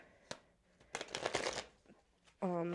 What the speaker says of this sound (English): I'm going to pull some tarot cards for y'all